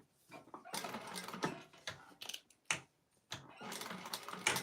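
A sewing machine top stitches a clutch wallet with a long stitch length, its needle clattering in several short bursts broken by pauses, soft and close with no speech.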